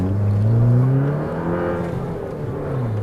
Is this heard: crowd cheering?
no